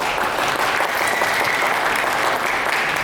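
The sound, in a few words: students applauding the counselor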